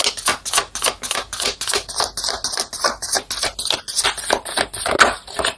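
Tarot cards shuffled quickly and steadily, a dense run of crisp riffling and patting bursts that fills the whole stretch, close and fairly loud with no talk.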